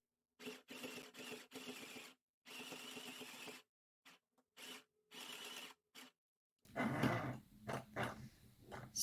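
A mini sewing machine stitches a fabric Christmas garland in short bursts of whirring with pauses between them, ending in a louder, rougher stretch of machine noise; quiet and close.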